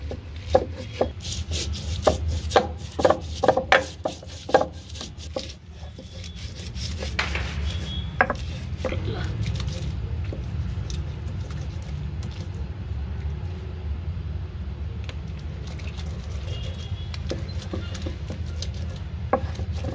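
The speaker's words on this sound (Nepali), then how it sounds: "मलाई मिक्सरमा पिसेको भन्दा पनि यो ओखलमा पिसेको" Pickle ingredients are pounded and ground by hand in a stone mortar, first with steady sharp knocks, then with a continuous close rubbing and grinding.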